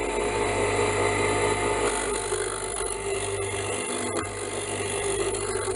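A rasp files and rounds a wooden whirligig lure workpiece, giving a steady, close, continuous scraping rasp with a low hum underneath and no pauses.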